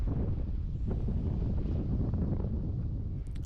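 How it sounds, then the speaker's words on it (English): Strong wind buffets the microphone high up a sailboat mast at a marina near Cairns, a steady loud low roar that continues throughout with no voices. "As you can hear, it's quite windy up here."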